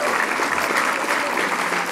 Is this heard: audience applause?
yes